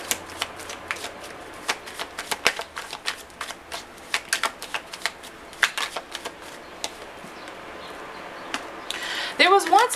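Tarot cards being shuffled by hand in a quiet room, a long run of soft riffling flicks and slaps at an uneven rhythm, close and fairly faint, ending in a brief louder rustle.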